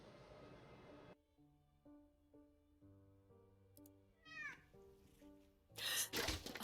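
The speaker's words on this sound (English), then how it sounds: "Ich sag doch, wir haben eine Katze." Meowing of a cat inside the video game Telling Lies, a few short rising and falling calls heard over soft tonal game music, followed by a loud burst of noise at the end.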